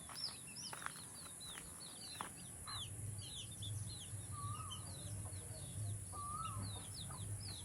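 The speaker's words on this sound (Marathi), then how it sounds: "बघा मंडळी पिल्लू किती आहेत कोंबड्याची" Soft, repeated clucking from a hen mixed with many high, thin peeping chirps from chicks, steady and close over a constant background hum.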